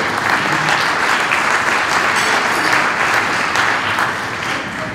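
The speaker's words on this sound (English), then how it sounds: "let's give a round of applause to our AV guy back there." A keynote audience at SGAC 2014 gives a sustained round of applause, dense steady clapping from many hands filling the room from start to finish with no speech over it.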